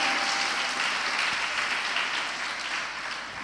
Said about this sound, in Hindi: एक बार जोरदार तालियां बजा के स्वागत करें।